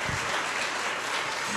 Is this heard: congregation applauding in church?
yes